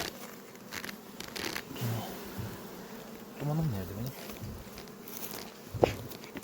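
Honey bees buzz around their hives in a mountain pasture apiary, a faint, steady hum with scattered thumps and handling noises, while someone speaks briefly nearby.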